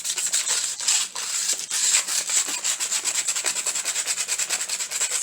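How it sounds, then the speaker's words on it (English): Sandpaper sanding over a shiny Dollar Tree Christmas sign, rhythmic close back-and-forth rasping strokes, loud and alone. "But first you want to take some sandpaper, because it's kind of shiny"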